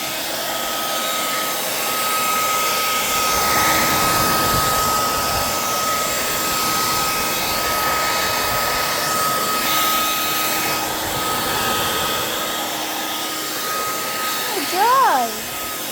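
A hair dryer blows steadily and loudly over wood for drying, a continuous whooshing roar with a whining motor tone, briefly shifting near the end.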